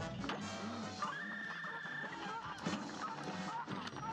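Cartoonish geese honking in the Cuphead video game, several distinct honks and squawks scattered over game music and effects, fairly quiet.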